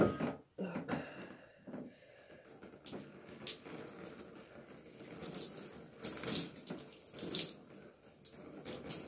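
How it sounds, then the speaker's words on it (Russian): Tap water runs steadily while hair is rinsed after washing with a solid natural shampoo and an apple cider vinegar rinse, a continuous splashing flow with faint sounds of handling close by. "сейчас надо будет смывать волосы"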